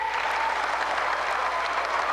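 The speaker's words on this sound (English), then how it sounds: "Why don't we give the fire department a round of applause?" Audience at a 1994 Mike Foster stunt show applauds the fire department, a steady, dense wash of clapping from a sizable crowd lasting the whole moment without pause.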